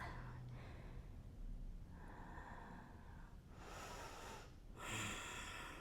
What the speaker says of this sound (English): Big deep breath.